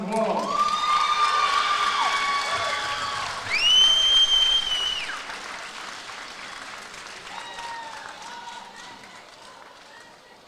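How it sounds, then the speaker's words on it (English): A gym crowd at a high school basketball event applauds and cheers, with whoops and high shouts over steady clapping that swells around the fourth second and then slowly dies down. "Give them all a big round of applause."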